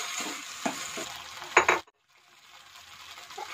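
Chopped capsicum stirred and cooked in a pan for chicken lasagna, a close sizzle broken by several spoon scrapes and clinks against the metal, then a sudden brief silence before a quieter sizzle resumes, with no talking.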